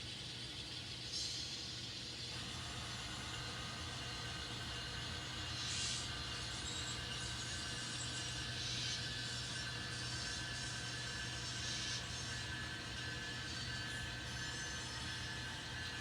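An N scale model train runs on a layout with a faint, steady mechanical whir and light clicking under a low hum, quiet and unbroken throughout.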